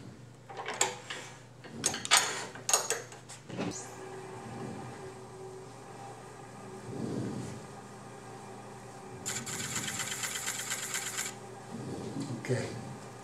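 A tool cuts grooves into a hollow sphere in a string of close scraping and rasping strokes, with a few sharp knocks early on and a longer, brighter cutting pass later, under a steady low hum.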